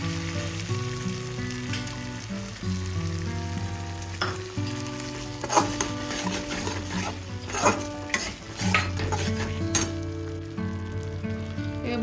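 Cashew paste frying in a pan in a home kitchen, a steady sizzle under repeated scraping strokes of a spoon against the metal, close and fairly loud, with occasional clinks of the utensil and no talking.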